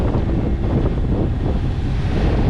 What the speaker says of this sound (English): We're seeing about 19 knots of wind right now, and bashing.